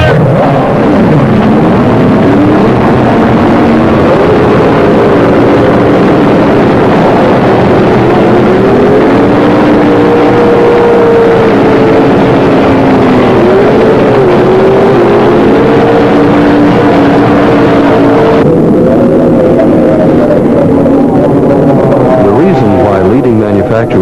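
Outboard-motor racing boats roar off the start in a dense, loud, continuous snarl of engines, pitches sliding and overlapping as they pull away over water. A narrator talks throughout.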